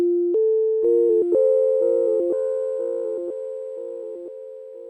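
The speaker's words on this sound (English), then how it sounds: "If these 2 knobs are at noon, this is a delay pedal." A clean, tone-like melody passes through a Chase Bliss Thermae delay pedal with its sequencer knobs at noon, each note followed by softer echoes that overlap and slowly fade, steady and close.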